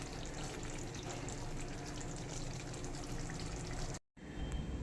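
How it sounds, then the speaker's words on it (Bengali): Gondhoraj chicken frying and being stirred in a pan, a steady loud broadband sizzle with faint scraping that runs continuously, cutting out abruptly for a moment near the end before resuming. "এবার একটু নেড়ে নেব"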